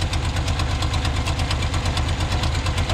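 A car engine running on one cylinder idles roughly up close, a steady uneven chugging with rhythmic knocking pulses.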